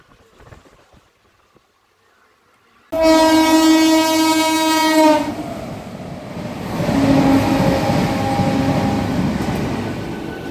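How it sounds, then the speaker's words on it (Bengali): A train horn blasts loudly for about two seconds after a quiet start, then the steady rumble and clatter of the train running towards Deulti station continues, with a second fainter horn tone later. "ট্রেন ছুটে চলল দেউলটির দিকে"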